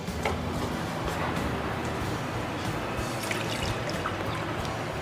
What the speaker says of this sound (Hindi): दो ग्लास हम पानी इसमें डाल रहे हैं।